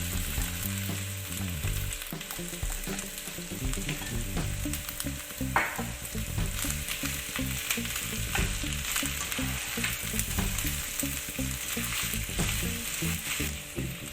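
Potatoes fry in a pan with ginger garlic paste, producing a loud, continuous close-up sizzle and crackle with occasional stirring scrapes throughout.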